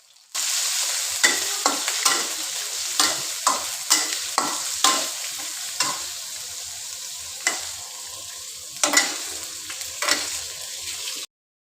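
Pork liver stir-fries in a hot pan, a steady loud sizzle broken by repeated sharp scrapes and clacks of a spatula turning the pieces, with no talking.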